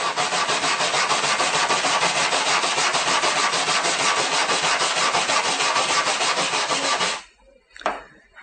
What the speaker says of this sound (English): You want to use the small brush to really get into it in the spot that you're welding on.